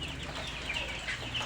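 Chickens cluck softly in the background, a few scattered calls over steady low outdoor noise, no one speaking.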